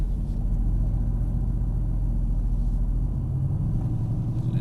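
A Mercedes AMG GT S in first gear manual mode pulls out toward the racetrack at Exotics Racing in Las Vegas, a continuous low engine rumble that steps slightly in tone late on, with no voices.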